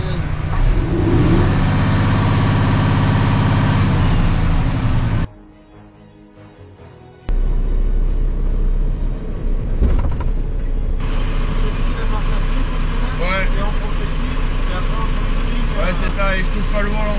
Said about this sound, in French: Je te fais signe d'accélérer à fond